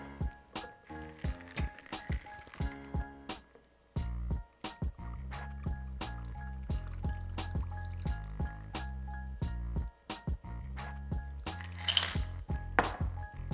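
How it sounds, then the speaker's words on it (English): Ice clinks and knocks against a hurricane glass in scattered taps while a shaken cocktail trickles in, close by and fairly quiet, with no voices. "Fill a hurricane glass with ice and pour."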